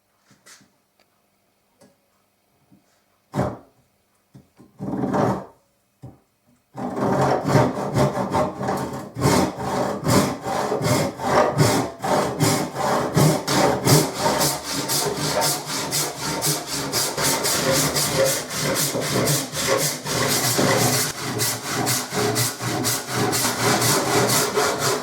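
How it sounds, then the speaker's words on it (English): Hand saw with candle wax on the blade cutting wood for a bass guitar build: after a few scattered taps, loud rhythmic back-and-forth rasping strokes start and continue steadily and close by, with no talking. "Bit of candle wax on the saw, and yeah, away we go."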